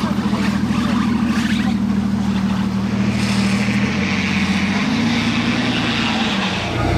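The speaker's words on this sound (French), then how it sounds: "Avez-vous entendu le V12?" Aston Martin Rapide V12 engine revving on a Monaco street at night, a loud, sustained deep engine roar that rises in pitch toward the end, with street ambience underneath.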